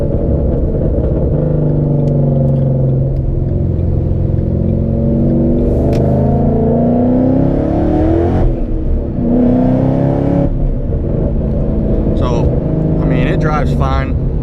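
A Ford Mustang GT with a cam-tuned engine rumbles from inside the car while driving, with engine pitch rising and falling through shifts; someone talks over it almost throughout.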